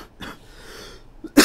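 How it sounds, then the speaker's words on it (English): A person coughs while teaching math with chalk, giving a short cough at the start and a sharper loud burst at the end, near and with no talk in between. "It might be the chalk making me cough right now."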